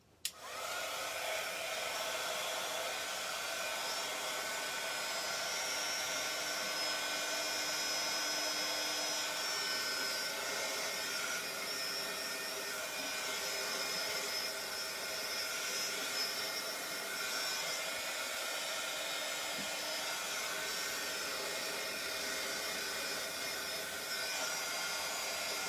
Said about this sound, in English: I'm just going to direct this heat in spurts to the petals.